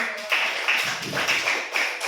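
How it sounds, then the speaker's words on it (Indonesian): Applause from a group, a dense patter of many hands clapping steadily throughout, moderately loud, with no talking over it. "tepuk tangan dulu"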